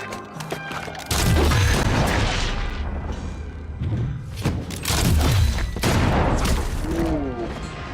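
Gunfire rings out during a tense scene in an episode of the Fallout TV series, with loud, heavy bursts of shots and thuds that come in several waves over a rumbling, cinematic backdrop.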